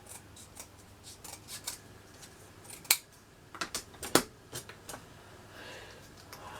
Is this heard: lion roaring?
no